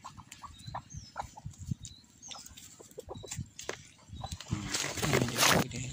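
Roosters and hens of a Filipino chicken breed on an island in Timor: nearby clucking and scattered calls repeat throughout, with a louder burst of crowing near the end.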